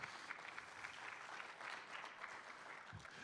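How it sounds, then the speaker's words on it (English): Audience clapping at a semiconductor summit, a sustained patter of many hands in a conference room, fairly faint and steady for a few seconds. "Round of applause, please."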